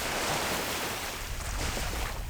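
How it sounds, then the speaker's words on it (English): Ocean waves wash onto a beach in a steady, broadband roar, with some wind buffeting the microphone throughout and no talking. "Let's listen to these fucking waves."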